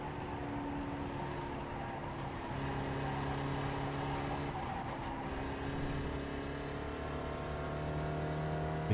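A Spec Racer Ford race car engine drones steadily in the iRacing game at Tsukuba, a continuous low-level hum with shifting tones and no talking.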